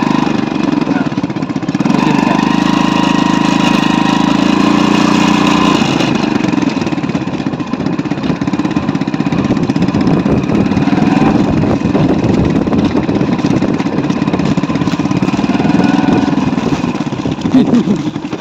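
A motorcycle engine runs steadily near Chandubi lake, giving a loud, close, continuous rumble that holds for the whole stretch with slight variations in pitch.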